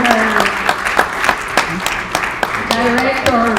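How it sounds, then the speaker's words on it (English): Audience applause at a sales team recap event, a sustained round of clapping with distinct sharp claps and some voices and a tonal sound layered over it. "Big applause to her."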